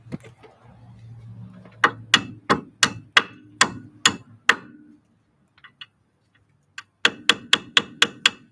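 Sharp metallic hammer blows strike a car's suspension to knock loose a lower ball joint during a brake rotor job: a run of seven evenly spaced loud whacks, a pause with faint clinks, then another quick burst of six.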